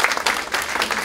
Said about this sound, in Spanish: el señor Carlos Herbert, con un fuerte aplauso.